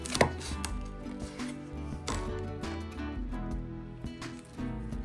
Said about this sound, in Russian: Порежем бекон.